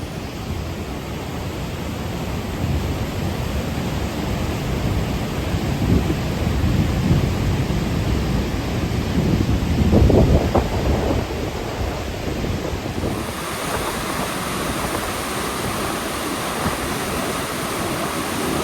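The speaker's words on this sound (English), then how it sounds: "lots of water rushing through here" Mississippi River water rushing loudly at Almonte, Ontario, near a trail bridge on a former rail line: a steady, broadband roar that swells midway, with no one speaking.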